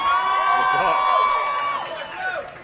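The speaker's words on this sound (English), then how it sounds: "Give him a round of applause, everyone" Studio audience gives a guest a round of applause on a live talk show, a steady wash of clapping and cheers under talk that fades toward the end.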